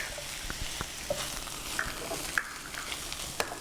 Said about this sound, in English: go ahead and crack those eggs in the center there